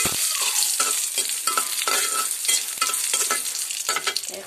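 Chilies frying in oil in a wok, a loud close sizzle and crackle with rapid, rhythmic spatula stirring throughout.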